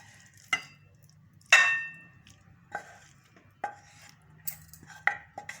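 Spiced rice (tehari) spooned into a serving dish, a handful of scattered clinks and scrapes of utensil against dishware, with a bright ringing tap early on, near and quiet between hits.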